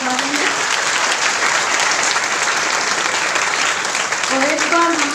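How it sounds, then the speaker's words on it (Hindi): Loud, dense audience applause at a sub-service-centre annual festival and teacher-honouring ceremony, a steady wash of many clapping hands with a few faint voices calling out near the end. "और एक बार चांद वालों के लिए सारे जोरदार ताली बजा देंगे।"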